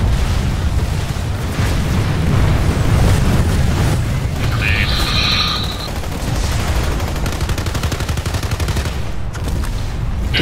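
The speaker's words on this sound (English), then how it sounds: "Grenade." A grenade explosion in Planetside 2 during a squad fight, a loud booming blast amid heavy surrounding gunfire and battle noise, with voices talking over the din.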